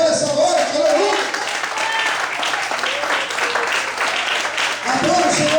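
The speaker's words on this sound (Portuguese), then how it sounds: "Será que você pode aplaudir o Senhor essa noite?" Applause from a church congregation rolls on steadily for several seconds, a thick wash of clapping with a voice speaking and calling out over the top near the start and again at the end.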